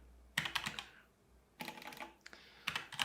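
Computer keyboard typing comes in three separate bursts of rapid, crisp key clatter with short pauses between them, close and clear, with no speech.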